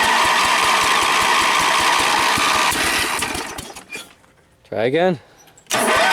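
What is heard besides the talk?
go kart engine starting and running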